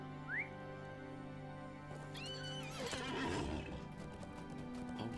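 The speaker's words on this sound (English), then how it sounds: "Right, get on your horse." A horse in a video game neighs with a rising whinny, then hooves clop in a quick rhythm under a soft musical backdrop, fairly close and clear.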